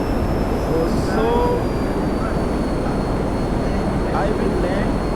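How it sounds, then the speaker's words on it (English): Airplane engine drones steadily through a flight and landing approach in a video game, a broad continuous rumble with a faint high whine, while a player talks over it. "I will land this plane"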